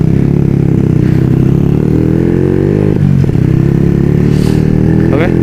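A Supra motorcycle fitted with a new quiet silencer idles and revs steadily with a low, muffled exhaust rumble, close by and continuous, with no talking.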